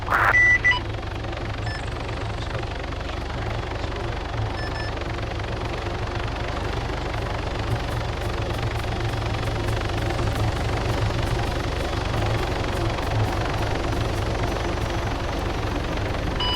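A helicopter in the video game Arma 3 spools up, its engine holding a steady, broad, continuous whine and rumble with faint rhythmic ticking, and no voices over it.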